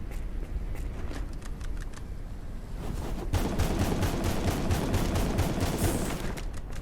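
Rapid pistol shots in the action game Summum Aeterna, a dense run of sharp cracks that turns heavier and more continuous halfway through, layered over steady game noise.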